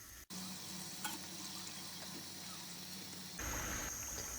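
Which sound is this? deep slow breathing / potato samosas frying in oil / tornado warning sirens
potato samosas frying in oil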